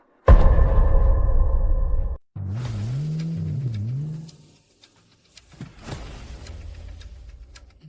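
Car starting and driving off: a loud engine rumble, then a revving whine rising and falling as it pulls away, fading out before faint further rumbling returns.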